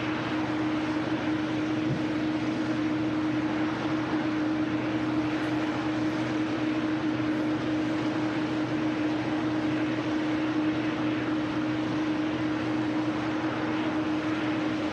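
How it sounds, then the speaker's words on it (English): A Scandinavian Airlines Airbus A330neo taxies at Manchester Airport. A steady, continuous engine drone with a constant low whine holds level for the whole stretch and comes from a moderate distance, with no voices. "the beautiful Scandinavian A330neo in the new scheme as well, taxiing out to Oslo"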